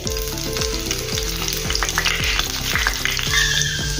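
Steady, loud sizzling of finely chopped garlic frying in hot oil, with a bright crackling hiss and a repeated low rhythmic clatter underneath.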